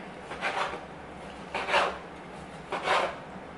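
A knife cuts through a slice of ham in a home kitchen, giving three evenly spaced rasping strokes about a second apart. They are close and fairly quiet, with no talking.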